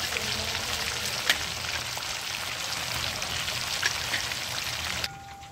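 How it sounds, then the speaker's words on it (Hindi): Chicken pieces deep fry in hot oil with a dense, even crackle like rain on a surface, loud and close with a few sharper pops, then the sound cuts down to a quieter hiss. "एक बार में नहीं, 2 बार में बहुत अच्छा फ्राई होता है चिकन"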